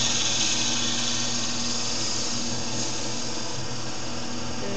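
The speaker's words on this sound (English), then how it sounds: "We're going to go all the way into the countersink." A drill bores a countersink into wood, giving a steady, loud, unbroken whirring drone throughout, with no voices.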